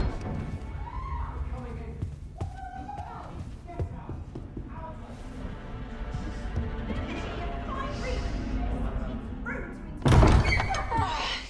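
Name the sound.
door being opened or slammed in the video game Dragon's Dogma 2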